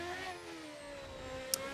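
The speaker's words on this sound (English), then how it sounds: "we're using the V8 sound pack" A V8 Formula 1 engine in a racing video game whines at rising and falling pitch, heard moderately loud as a single car accelerates past, with no talking.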